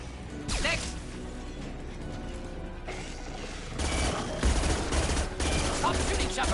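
Sustained gunfire in the video game Mass Effect 2, dense rattling bursts of rapid shots with a couple of louder blasts, continuous and up front throughout.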